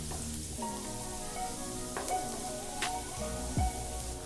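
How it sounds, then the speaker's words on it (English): Garlic fries in two to three tablespoons of hot oil in a pan, giving a steady, close sizzle with faint clinks, and no one speaks. "Let's fry them up together. For that, heat 2 to 3 tablespoons of oil."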